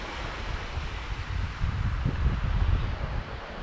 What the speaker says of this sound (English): here we have the point where the hill inlet meets the sea